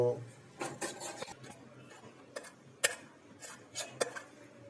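Ground peanuts being mixed into a sweet confection mixture in a dish, giving a few sparse utensil scrapes and clinks against the container, fairly quiet and irregular.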